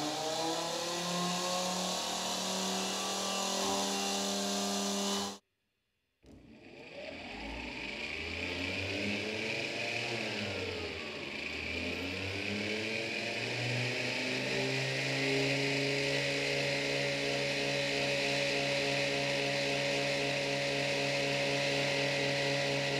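A car blower motor with its impeller removed, driven by a geared motor, whirs and whines loudly with wavering pitch, cutting out briefly near the start before spinning back up and running steadily.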